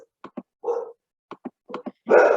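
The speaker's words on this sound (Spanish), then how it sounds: "voy a callar a mi perrito" A small dog lets out several short, sharp barks in quick pairs mixed with whimpering yelps, close and fairly loud, with silence between bursts.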